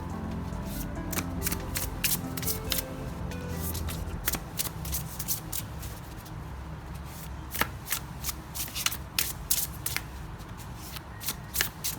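Spirit Keeper's Tarot cards being handled and shuffled, with a steady close papery riffle and a run of sharp card snaps and flicks throughout.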